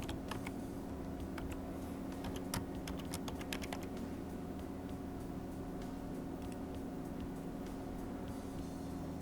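Computer keyboard typing as a username and password are entered at a clinic system login, a brief cluster of close key clicks early on over a steady low hum of room and machine noise.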